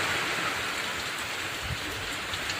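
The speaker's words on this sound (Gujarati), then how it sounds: "એટલો વરસાદ પડે." Heavy rain pours down steadily in a dense, even hiss with occasional heavier patters, filling the whole span without any voices.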